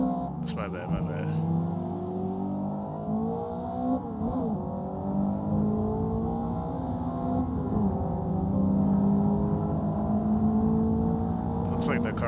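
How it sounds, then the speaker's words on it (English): Racing car engine in the Assetto Corsa video game, a steady sustained drone with shifting revs throughout, running continuously at moderate loudness while a person talks over it. "Looks like the car is slowing down up there."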